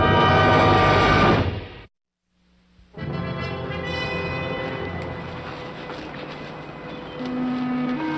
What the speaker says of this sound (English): I think I heard a train.